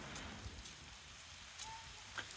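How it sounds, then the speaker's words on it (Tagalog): Steady autumn rain patters outdoors in downtown Victoria, Canada, a soft continuous hiss with scattered drip taps and no voices. "Umuulan."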